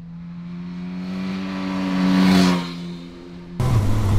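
Revving of a Suzuki GSX-S1000 motorcycle engine, a loud close idle that climbs into a sustained rev, peaks and falls back, then a sudden rougher, louder burst at the end.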